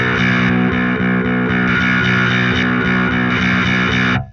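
A bass guitar through a clean boost pedal plays a steady, pulsing riff with a thick, gritty tone, sustained loudly throughout before cutting off at the end.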